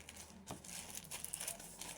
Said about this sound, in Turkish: Köpek mamalarının e, poşetini zımbalayacağım.